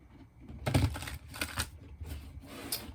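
Mermaid Tarot cards being shuffled, close and moderately loud, a burst of riffling and flicking in several uneven waves across a few seconds, with no talking.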